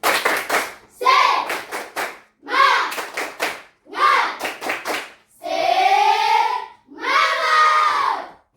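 A classroom of students performs a rhythmic spirit clap chant, bursts of unison clapping in quick patterns alternating with loud group shouts, repeated in several close, energetic phrases.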